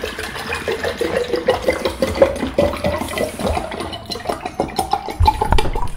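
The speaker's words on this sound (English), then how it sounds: "I'm gonna start with the, the agua, and just pour" Water pours steadily into a container, a continuous splashing gurgle that shifts slightly as it fills, with a brief clunk near the end.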